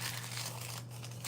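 Collage paper crumpled by hand, a steady close crinkling and rustling over a low constant hum, with no talk.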